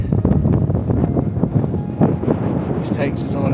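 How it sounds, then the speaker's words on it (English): Strong wind roars and buffets the microphone in a steady low rumble at a beach along a coastal walk at Two Peoples Bay, continuous throughout with no talk. "it's become very windy now, so pardon the wind sounds"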